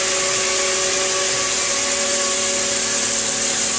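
A CNC machine polishing a 3 cm demi bullnose edge on stone at 2400 RPM, a loud continuous high-pitched whine with steady tonal hum and hiss, unchanging throughout.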